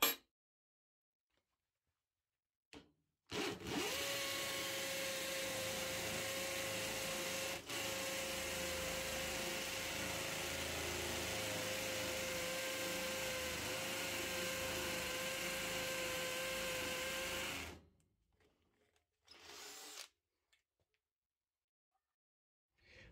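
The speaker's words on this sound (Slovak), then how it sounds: "Odskúšame mechanický príklep na vŕtaní do betónu o priemere otvoru 10 mm." A Metabo SB 18LTX BL cordless hammer drill bores a 10 mm hole into concrete, running as a steady, buzzing whine for about fourteen seconds, then stopping abruptly, with short quiet bursts after.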